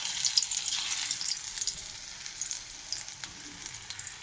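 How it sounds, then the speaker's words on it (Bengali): Spinach fritters sizzling in hot oil, a steady bright crackle and hiss with small popping bursts, close and continuous with no talking. "তেল গরম হয়ে গেছে,"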